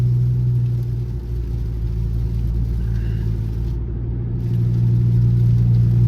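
Straight-piped Chrysler 300C with the 5.7 engine cruising at night, a loud deep steady exhaust drone heard from inside the car, holding a constant rumble with slight swells in load.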